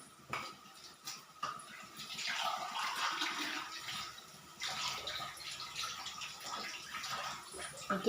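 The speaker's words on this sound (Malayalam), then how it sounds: "വെള്ളം ഒഴിച്ചു കൊടുക്കാവേ." Water is poured into a pot while cooking Maggi noodles at home, a soft splashing, gurgling stream that rises and falls in two main bursts after a few light knocks, fairly quiet throughout.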